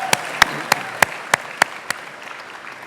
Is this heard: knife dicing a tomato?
no